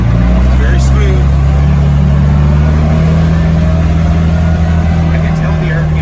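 Scooter fitted with an MSC Stage 1 clutch kit and updated spring cruises at steady, moderate revs, its engine droning continuously up close with wind noise, while a rider talks over it.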